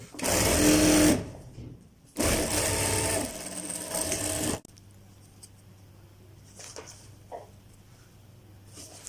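A domestic sewing machine runs in two loud bursts, stitching the sleeve seam of a printed ladies' suit, then stops, leaving a quiet hum with a few faint clicks.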